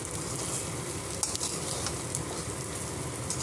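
Taro root (chamagadda) fry crackles and sizzles loudly in a pan, a dense close hiss with occasional stirring scrapes throughout, no voices.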